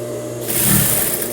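A sewing machine runs a short burst stitching a blouse seam in reverse, a close mechanical whir that swells briefly over a steady motor hum.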